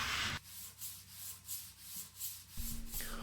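Sandpaper rubbing across a wooden chess board in rhythmic back-and-forth strokes, a close, steady scratchy swish repeating about every half second during final sanding before oiling.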